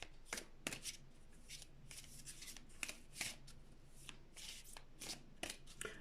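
Oracle cards shuffled by hand in a quiet room, repeated soft papery flicks and slides in irregular bursts, close and gentle, with no talking.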